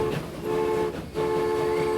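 A tank engine train runs in Transport Fever 2, giving a continuous rolling rumble with a steady tonal hum and faint rail clatter, heard from the back of the train and fairly even throughout.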